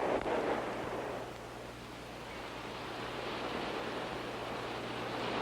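Waves breaking along a sandy beach, a faint steady wash of surf noise that swells slightly at the start and settles into a continuous distant roar.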